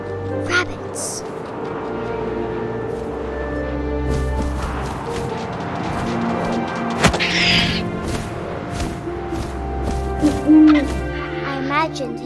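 An owl hoots in the video game What Remains of Edith Finch, soft low hoots repeating over wind, music and occasional thuds, with narration spoken over much of it.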